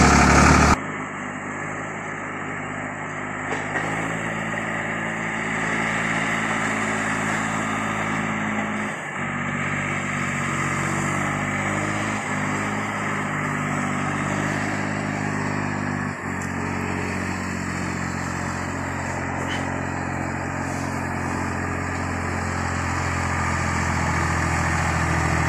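A Valmet 605 tractor engine runs steadily and close up for the whole stretch while hauling birch out of a spruce stand, a continuous low diesel drone with slight load shifts and no talk.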